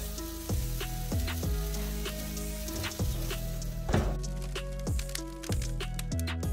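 Cheese-topped ground beef burger patty sizzling on a Monument MESA-400 gas grill, a steady close fry with faint crackle while a music bed plays throughout.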